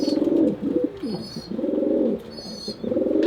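Racing pigeons coo in a loft in repeated low, throaty phrases, close and fairly loud, with short pauses between bursts and no talk.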